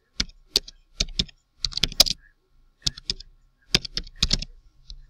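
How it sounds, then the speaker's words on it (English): Computer keyboard keys are pressed in short irregular bursts while a password is entered, close and crisp clicks with brief pauses between groups and no talking. "So I'll type in my password."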